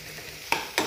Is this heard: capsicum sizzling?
yes